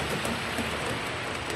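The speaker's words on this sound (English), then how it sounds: "Still raining cats and dogs outside." Dense, steady hiss of heavy rain pouring down, constant and even throughout with no voices.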